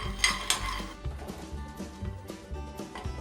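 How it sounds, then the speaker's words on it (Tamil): About three-quarters of a cup of peanuts dry-roast in a pan, with close, repeated rattling and scraping as a utensil stirs and knocks against the metal, sharper clinks near the start. "3/4 கப் அளவுக்கு வேர்க்கடலையை ட்ரை ரோஸ்ட் பண்ணிக்கலாம்."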